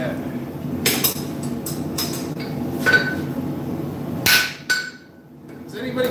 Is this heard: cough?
no